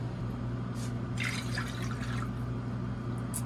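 Water is poured into a container for French cruller dough, a short, close trickling pour with splashy dripping over a steady background hum.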